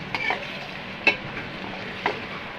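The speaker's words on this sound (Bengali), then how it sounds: "পেঁয়াজগুলো এখন আমি ভেজে নেব" Onions sizzle softly in a pan for a bitter gourd and shrimp curry while a spoon stirs them. There is a steady frying hiss with three brief scraping strokes, close and moderately loud, with no talking.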